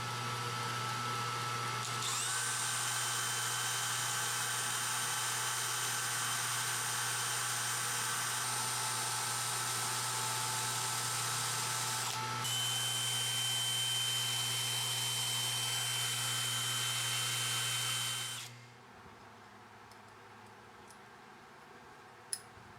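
Framelock folder knife parts being sanded by a steady power tool, a continuous loud whirring hum with a brief interruption partway through, then cutting off near the end to a quiet background.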